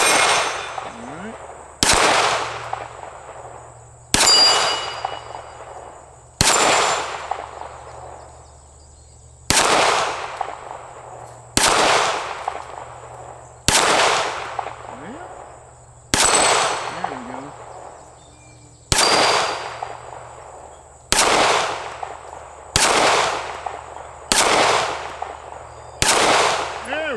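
Springfield SA-35 pistol fired at steel plates on an outdoor range: eleven sharp, loud shots, each cracking out with a ringing decay, spaced about two to three seconds apart in a steady, deliberate rhythm.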